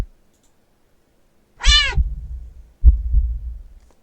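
A deep, drawn-out cat meow from the horror game Do Not Take This Cat Home, sounding twice in close succession, the first a tonal yowl and the second a shorter low growl-like call, loud and alone.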